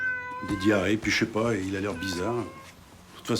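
A cat gives several drawn-out, wavering meows in quick succession, close and fairly loud, while someone speaks French alongside the calls.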